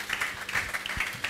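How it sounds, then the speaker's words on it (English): Applause from an evening energy-policy dialogue audience greeting a presenter at the podium, a quiet, fairly distant patter of clapping that fills the short moment evenly. "A round of applause for Nana Ude."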